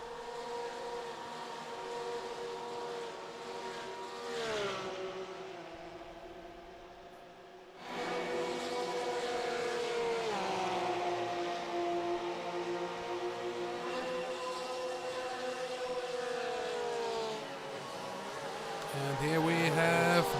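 GT3 Cup Porsche race cars in busy traffic at Daytona in a sim racing game, a continuous close engine drone with shifting pitch, under a commentator's voice.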